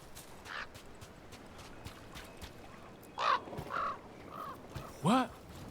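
A crow in Dragon Age: The Veilguard gives a few harsh caws in the game world before flying off, mid-distance, set against soft ambient background and light footstep-like sounds.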